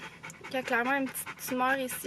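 A tied-up brown labrador whimpers and pants in short rhythmic bursts, close by, under a person's speech.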